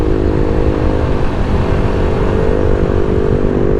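Engines of a mixed group of adventure motorcycles drone loudly and steadily as they ride past on a road, a continuous rumble with no break from start to finish.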